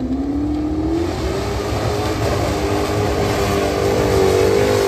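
An off-road race vehicle climbs a hill under its own power, its engine roaring loud and steady with a rising, strained pitch throughout, close by and continuous with no talk.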